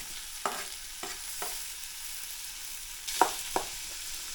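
Green chilli and tomato frying in a pan for raw banana curry, a soft steady sizzle with a few sharp stirring clacks of a spoon against the pan, no voices.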